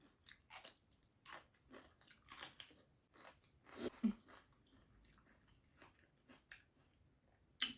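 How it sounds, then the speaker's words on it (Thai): Crunchy dried sweet chili pepper being bitten and chewed close up, a series of sharp crisp crunches in irregular rhythm over nearly eight seconds, with quiet pauses between bites. "พริกหวานคือหวานแห้ง หวานและกรอบมากนะคะ"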